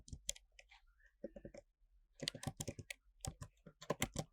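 Fingers type on a computer keyboard in quick clusters of close, crisp key clicks with short pauses between bursts.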